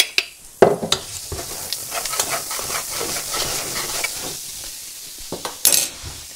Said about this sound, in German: Ich habe da immer mein Knoblauchöl und ein bisschen zum Butter dazugeben.